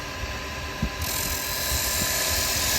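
A carbide chisel scrapes wood on a spinning lathe, giving a steady, dense, close grinding hiss with a constant motor hum beneath and a few faint knocks.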